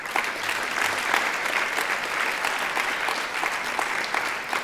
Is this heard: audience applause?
yes